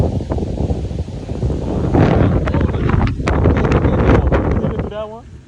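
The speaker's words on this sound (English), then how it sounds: "It's getting windier as we go up, though." Gusty wind buffets the microphone on a mountain road climbing at Mountain Creek in Vernon, New Jersey, a loud, rumbling roar that swells and eases throughout, with voices faintly mixed in.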